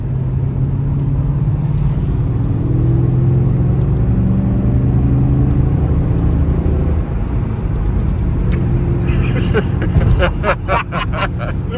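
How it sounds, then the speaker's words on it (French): A Rover MG ZT fitted with a Mustang V8 cruises on a German autobahn, a steady loud engine drone and road roar filling the cabin, rising slightly near the end with some rattling, while occupants speak over it. "Critter, on est sur l'autoroute, est-ce qu'on a plus de puissance?"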